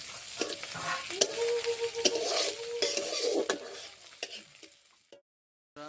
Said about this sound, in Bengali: এই যে কড়াইতে আলু কুমড়ো দেওয়া হয়ে গেছে এবার ঘাঁটছে